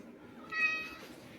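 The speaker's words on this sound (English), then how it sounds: "Film the kitty." A pet cat gives a single clear meow of about half a second, close and moderately loud over a faint indoor background hum.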